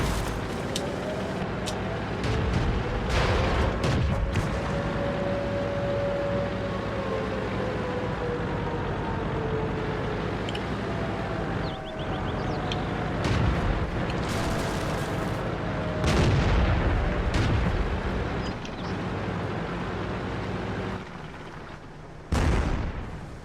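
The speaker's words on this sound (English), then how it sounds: "See that artillery shooting over here," Artillery booms in the World of Tanks video game, with several heavy blasts and thuds spread over a steady rumble of engine and battle noise, some close and loud, others duller.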